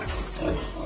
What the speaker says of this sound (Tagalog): Yan ang baboy natin.